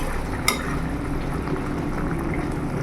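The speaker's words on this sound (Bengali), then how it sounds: "আর মাছটা দিয়ে আমি কিছুক্ষণ 2 মিনিট ধরে ফুটিয়ে নেব" Bata fish curry simmering in a pot, a close, steady bubbling and light sputtering that continues evenly, with a single sharp clink near the start.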